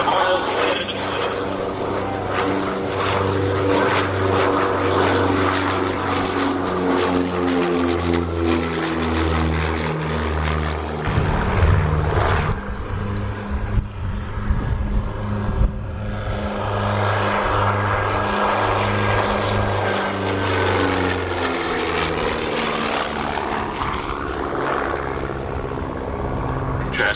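A vintage Miles Gemini propeller aircraft drones overhead at an airshow, its engine note rising and shifting in pitch as it passes, loud and sustained, with a commentator's voice faintly underneath.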